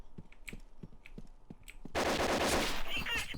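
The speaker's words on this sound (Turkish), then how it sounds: "Ulan silahtan çıkan sese bak arkadaş ya." A gun in the Point Blank video game fires single sharp shots at a steady beat, then breaks into a loud, dense burst of rapid automatic fire that keeps going, close and with no voices.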